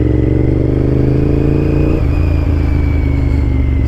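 A loud aftermarket exhaust on a 2008 Honda VTR 1000 motorcycle drones continuously up close, with a deep throbbing V-twin engine note that shifts slightly midway.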